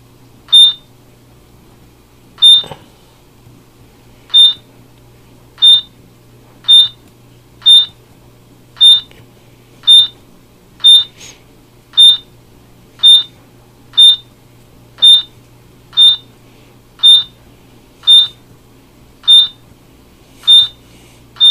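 A modernized Kruppy elevator in a US Ramada Inn gives a steady series of sharp, identical electronic beeps, roughly one per second, over a faint low hum, with no talking.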